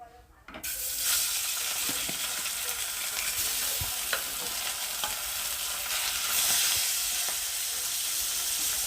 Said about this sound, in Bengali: ওটাকেও ভালো করে ভেজে নেব